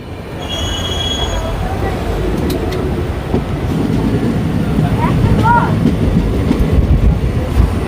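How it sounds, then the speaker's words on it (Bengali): A passenger train pulls out of Bandel Junction station, its steady rumble and rail noise loud and continuous, with faint wheel squeals and station sounds over the top. "আমাদের ট্রেন ছেড়ে দিল ব্যান্ডেল জাংশন স্টেশন থেকে"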